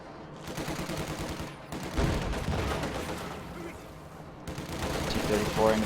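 Gunfire and tank cannon fire in a World War II strategy game battle with a T-34 engaging infantry, heavy overlapping shots and booms under continuous commentary.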